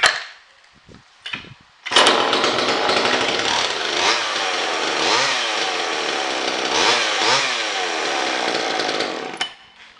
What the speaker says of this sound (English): It's going to sputter because there's absolutely no gas in the carburetor. Give her a go.